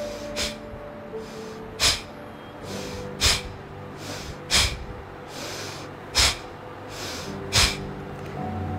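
A breathing exercise of forceful exhalations thrown out with a jerk by pulling the tummy in, the sharp bursts coming at steady intervals of about one and a half seconds over a soft steady background, with no talking.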